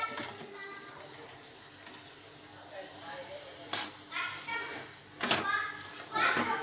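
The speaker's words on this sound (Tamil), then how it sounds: "இந்த ரவையை அதில் கொட்டிக்கலாம்" Semolina (rava) poured into a pan with raisins for rava laddu and stirred, soft sizzling and scraping stirs with a few sharper clatters, close, while children's voices and chatter sound in the background.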